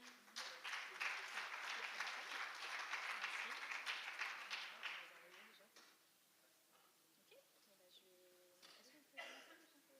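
At a French research project presentation, an audience applauds for several seconds in a fairly dense burst that thins out, then fades, leaving quiet room sounds and a few scattered later claps.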